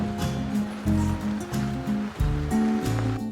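Off-road vehicle driving along Poncha Creek Road in Colorado on the Trans America Trail, where the road becomes a creek: a low rumbling engine with shifting revs over continuous rushing, splashing water, close and steady.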